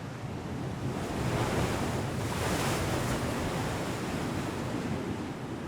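Waves surge and wash continuously over choppy coastal Spanish waters where fishermen work, a loud broad roar with gusty wind buffeting the microphone and no voices.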